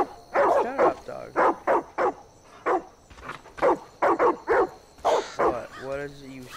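A dog barks in the video game Far Cry 5, a series of loud, close, repeated barks in quick bursts ending with a whining yelp, while a person talks over it.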